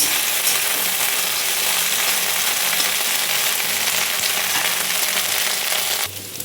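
Okra crackles and sizzles in hot oil, a loud, dense, continuous frying hiss close by that drops off abruptly near the end.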